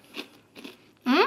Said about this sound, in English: Let me do a little taste test of the homemade chips.